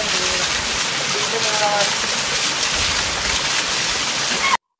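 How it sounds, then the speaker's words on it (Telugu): A forest waterfall roars as a loud, steady broadband wash that fills the whole clip, with a few faint tonal chirps over it, then cuts off abruptly near the end. "ఈ వాటర్ ఫాల్ దగ్గర ఆ వాటర్ సౌండ్ తప్ప ఇంకేం వినిపించదు"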